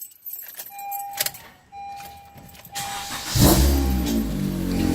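Keys jangle and click, then a 2015 Honda Civic LX engine with a modified Borla catback exhaust cranks and catches, settling into a loud, steady idle up close.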